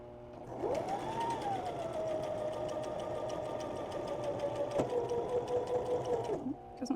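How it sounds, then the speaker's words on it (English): A sewing machine stitches slowly through a heavily pinned quilt, a steady whirring motor hum with rhythmic needle clatter for several seconds, close and fairly quiet, ending with a brief stop. "We're going to go real nice and slow."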